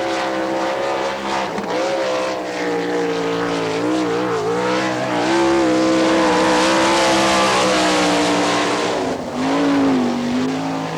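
The number 8 race car of John Bankston, an NCRA All Stars sprint car at Wichita, Kansas, roars loudly and continuously through a lap, its engine pitch rising and falling as it accelerates and backs off through the turns.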